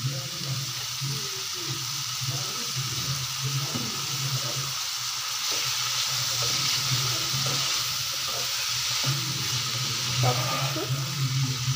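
Vegetable roll filling stir-frying in a pan after soy sauce is added, with a continuous close sizzle and repeated scraping and stirring knocks of a spoon against the pan.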